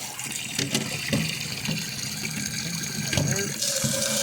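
Tap water runs and gushes through a container of soaking seeds in a home growing setup, a steady flowing wash with brief splashes, while a voice speaks briefly nearby.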